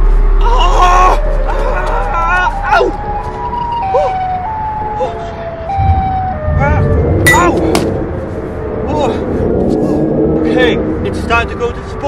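A wailing siren rises and falls repeatedly amid clanging noises and excited voices, loud and cluttered, with the siren tone shifting pitch throughout.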